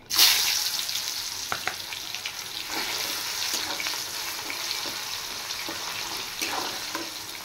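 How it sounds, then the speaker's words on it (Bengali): Chopped onions fry in a pan with cumin, bay leaves and dried chilies, giving a steady bright sizzle with light stirring scrapes and clicks throughout, close and with no talking. "পেঁয়াজ ফ্রাই হয়ে গেছে"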